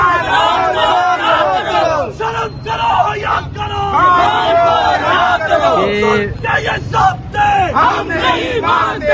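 A large crowd chants slogans and yells outside Adiala Jail at a PTI gathering, a loud, continuous mass of voices rising and falling in waves throughout.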